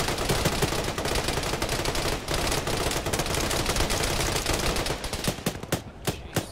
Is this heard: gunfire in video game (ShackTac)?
yes